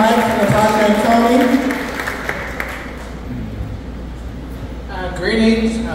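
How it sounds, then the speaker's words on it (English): Applause for a quinceañera court at a celebration in Kyle, Texas: broad, steady clapping from a crowd that fades slowly, with voices rising over the end. "let's give another round of applause to the court"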